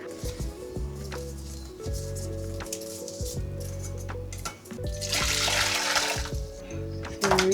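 About 450 ml of boiling water is poured into a container as a steady, gushing, close stream that swells louder toward the end, with tonal hum and some speech-like sounds underneath.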